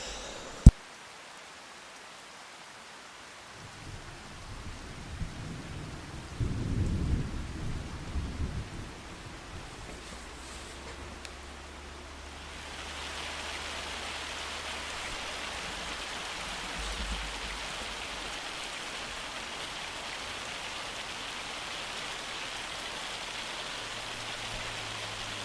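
Hailstorm with rolling thunder in the farming video game Farming Simulator 25, a steady wash of pelting hail and rain with low thunder rumbles building and fading, no voices.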